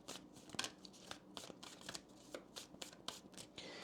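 Oracle cards are shuffled by hand in a quiet room, a run of soft, crisp riffling flutters and taps repeating irregularly several times, near and faint with no talking.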